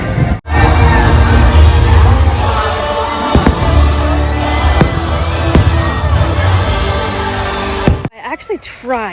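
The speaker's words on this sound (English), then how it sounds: "I'm on the people mover. I'm trying to catch fireworks." Fourth of July fireworks at a Disney park, caught from the PeopleMover ride: loud sustained crowd roar and cheering with several sharp bangs, ending abruptly in quieter movement noise.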